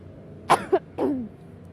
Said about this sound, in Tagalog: Medyo naubo-ubo pa ako ngayon kasi